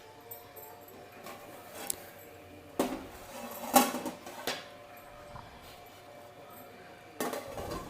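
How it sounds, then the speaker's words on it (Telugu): A lid going onto a pot of Andhra-style chicken biryani after lemon juice is stirred in, with a sharp metallic clatter near the middle amid softer kitchen clinks and light handling. "కలియబెట్టి మూత పెట్టేద్దాం."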